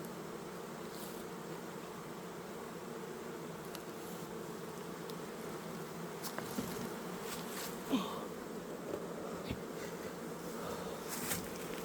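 Honey bees swarm around an open hive during an inspection, their buzzing a steady, dense drone filling the air, with a few faint knocks and clicks from handling the frames and boxes.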